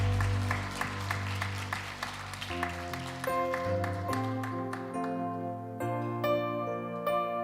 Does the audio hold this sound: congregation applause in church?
yes